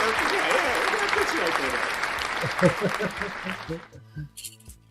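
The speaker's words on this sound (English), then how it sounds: "The applause is here." Loud, dense clapping from a crowd fills the first four seconds, then tapers off into scattered claps with voices talking underneath.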